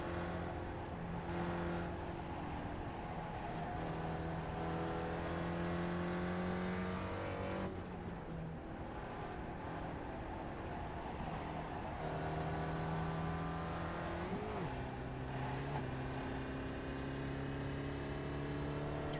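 A Spec Ford race car engine drones steadily through the last lap at Lime Rock Park, loud and close, with its pitch rising and dropping through gear changes and a brief shift around the middle.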